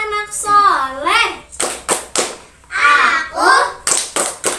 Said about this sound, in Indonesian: Coba tepuk anak soleh.